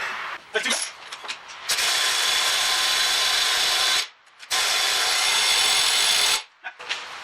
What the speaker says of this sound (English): I'll put the washer on first. And I'll screw that in.